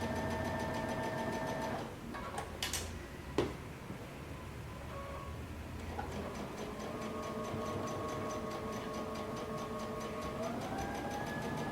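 Sewing machine stitching down the waistband of a pair of pants, a steady mechanical whir running throughout at moderate level, with a brief pause and some handling clatter in the early seconds.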